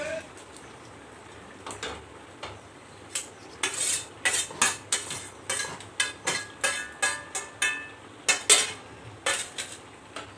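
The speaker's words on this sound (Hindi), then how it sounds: "जो हमारे पास कटे हुए सब्ज़ी फ्राई किया हुआ है उसे डाल करके मिक्स कर देंगे" Fried chopped vegetables stirred into boiling gravy in a pan for karahi paneer, with a spoon clinking and scraping against the metal in a quick, steady series of sharp knocks, close up and with no talking.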